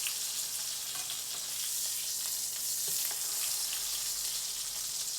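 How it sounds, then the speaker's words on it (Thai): Salted pork belly sizzles steadily as it fries in oil in a pan, a dense, continuous crackle with occasional sharper pops, close and without talk. "อันนี้คือทอดไล่น้ำมันก่อนนะคะ"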